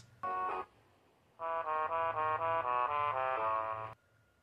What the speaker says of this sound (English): Maybe we could listen for the Queen Bee's buzz.